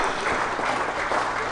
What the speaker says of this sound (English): David Lloyd acknowledging the applause of the crowd